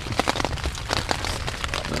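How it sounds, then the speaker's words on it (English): Steady close patter of rain striking a surface at a backcountry campsite in Myakka River State Park, Florida, dense irregular drops and taps filling the whole short stretch with no voices. "Hopefully the rain will stop."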